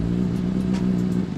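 A Honda CBR 600 motorcycle engine running just after a cold start, a steady low throbbing hum held at an even level for a brief moment, close by with no talking.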